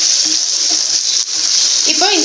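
Whole garlic cloves and onions sautéing in a pan for poondu kulambu, a steady loud hiss and sizzle throughout, with a short voice at the end.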